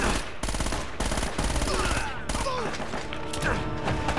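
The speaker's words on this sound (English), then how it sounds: "Because that machine gun will kill you in a second." Machine gun fire in the video game Uncharted: Drake's Fortune: rapid, loud automatic bursts broken by brief gaps, with mechanical clatter, whizzing sounds and impacts layered over the shooting.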